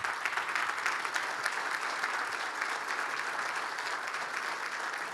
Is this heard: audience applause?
yes